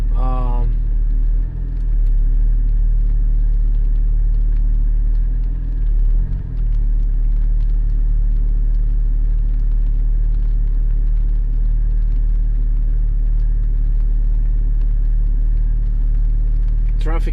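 Porsche 718 Spyder cruising through rainy Bucharest traffic, a steady low engine drone and road rumble heard from inside the cabin, with a voice speaking briefly at the start.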